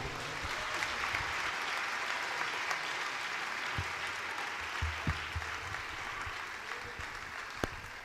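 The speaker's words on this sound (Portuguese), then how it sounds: "um aplauso ao Senhor." Church congregation clapping in praise during a service, a sustained wash of applause from many hands that holds steady for several seconds, with a few sharper claps standing out near the end.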